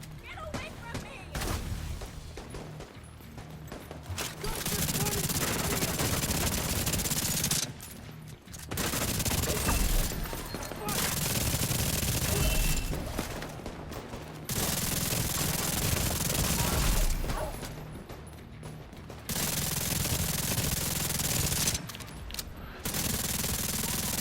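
Automatic weapon fire in the shooter game Tom Clancy's The Division 2, long dense bursts of rapid gunshots filling most of the span, broken by a few brief pauses, loud and close.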